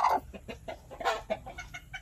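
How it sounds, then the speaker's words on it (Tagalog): A hen clucks repeatedly in short, agitated bursts, close by, with a steady rhythmic pattern. "matapang na inahin."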